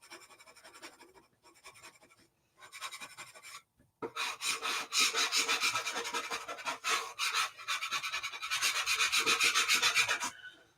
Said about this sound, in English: And I'll burnish it and show you guys afterwards